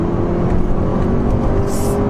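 A Honda Civic Type R FN2 engine drones loudly and steadily at high revs into VTEC, a constant buzzing roar throughout with no break.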